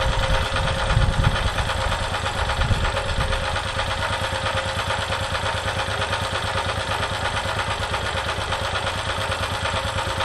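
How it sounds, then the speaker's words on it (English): A portable generator engine running on a hydrogen (HHO) and gasoline mix hums steadily at a fairly high RPM, with a continuous droning mechanical note and a slightly heavier rumble in the first few seconds. "But with the hydrogen and gasoline, it runs at a higher RPM. That's what you were listening to."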